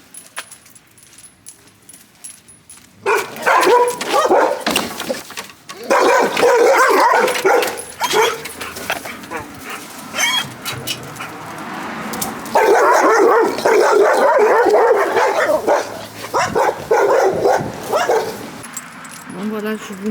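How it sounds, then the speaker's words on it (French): A dog barks and yips repeatedly amid lively activity, with people talking throughout and keys jangling nearby. "Là, vous allez voir, il y a un chien qui aboie."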